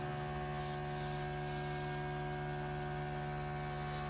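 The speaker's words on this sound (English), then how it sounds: "pump's a bit noisy, but as I said, does the trick. Now, there is paint coming out of there" Airbrush spraying paint onto a 1600mm Spitfire model, fed by a noisy compressor pump that gives a constant low hum, while short bursts of airy hiss from the brush come and go over it, near and fairly quiet.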